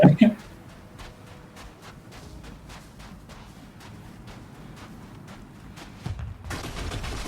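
Turret gunfire in Star Citizen rattles as a steady stream of evenly spaced shots at moderate distance for several seconds, then stops, followed by a different noise burst.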